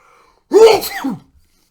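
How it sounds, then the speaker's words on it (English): A single close, sharp sneeze bursts out of near silence and ends quickly. "Excuse me, I sneeze."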